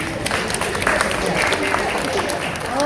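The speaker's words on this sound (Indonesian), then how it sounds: "Wah, tepuk tangan ini." Audience applause at a tribute event honouring a teacher, as former students stand; steady dense clapping fills the hall throughout, with a murmur of voices beneath.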